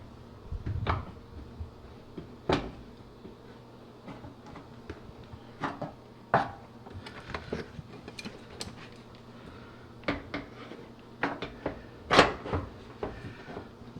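A front door panel being lined up and slid into place on a GE dryer during a gas-to-propane conversion: scattered close plastic and metal clicks, knocks and rattles of varying loudness over a quiet background, with no talk.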